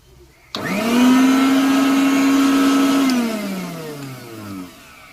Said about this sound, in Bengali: এখন ফ্যানের সুইচটা দেবো